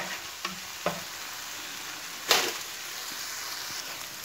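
Garlic fries in a pan for a tortilla, a soft steady sizzle broken by a few light taps and one louder scraping stir near the middle.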